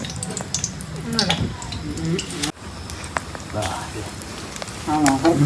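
Bhajiya fritters frying in hot oil in a village kitchen, a steady sizzle and crackle under loud conversation, with occasional stirring.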